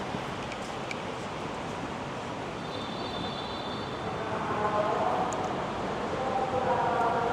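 An MRT train running northbound toward Cubao, heard from inside as a steady rumbling roar with a rising whine and faint high squeals, continuous throughout.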